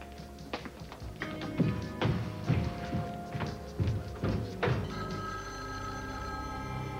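A telephone rings in a room alongside a series of taps and thuds, the ringing tone holding on steadily near the end.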